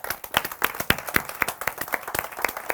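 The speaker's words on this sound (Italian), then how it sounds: "Quindi un applauso a loro" Live audience claps for the reading groups Colonna Infame, Maria, Castello Errante, Casello 24 and Grillo Parlante at a literary event, with distinct, fairly sparse individual claps in an uneven rhythm, close and moderately loud.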